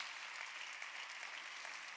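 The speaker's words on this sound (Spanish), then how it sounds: "Dan un aplauso fuerte a Jesús en esta tarde." A church congregation applauds loudly during a Spanish-language sermon, a steady broadband wash of clapping hands filling the whole stretch without any voice over it.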